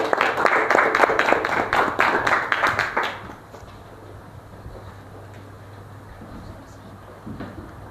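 A class of students applauds a presenting discussion group, a dense burst of clapping for about three seconds that stops abruptly, leaving a quiet room with a low hum and faint background noise.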